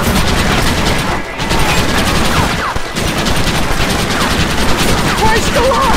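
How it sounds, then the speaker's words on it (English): Dense, continuous gunfire from several weapons in the Red Dead Redemption video game, loud and close with rapid overlapping shots throughout, a voice shouting over it. "John, stop shooting!"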